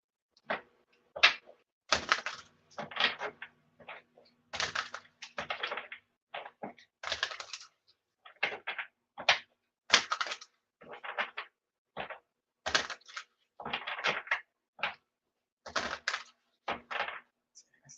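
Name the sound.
shuffling cards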